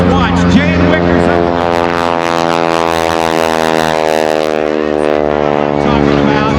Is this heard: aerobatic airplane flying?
yes